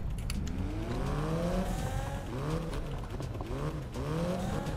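A Mitsubishi Lancer Evo X engine in a Need for Speed racing game rises and falls through repeated revs and gear changes, with tyre noise under a busy, moderately loud mix.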